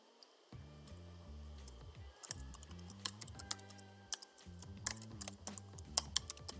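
Fingers type a password on a computer keyboard while setting up Active Directory Domain Services on a Windows server. Quiet, close clicks come in irregular bursts over a steady background hum with low tonal music, and no one speaks.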